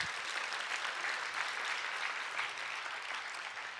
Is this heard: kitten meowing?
no